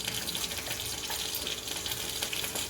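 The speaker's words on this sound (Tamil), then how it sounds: "ரசத்தை எடுத்து ஊற்றிட்டு" Rasam, a Tamil tamarind soup, pours in a continuous splashing gush of liquid that stays even and fairly loud throughout, with no talking.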